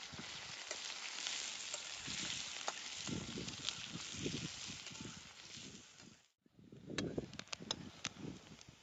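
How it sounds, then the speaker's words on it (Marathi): Onion fries in oil in a pan while a sandge curry is being cooked, giving a steady close sizzle with occasional stirring scrapes. The sizzle dips briefly near the end and then resumes. "कांदा तळून घेते."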